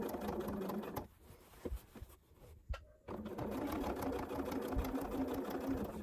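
A sewing machine runs a topstitch through four layers of a zipper fly on a trouser front, a steady close whirring drone that breaks off briefly in the middle and then resumes.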